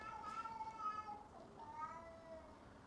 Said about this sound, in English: It's a little kitty. It's a cat that's like outside.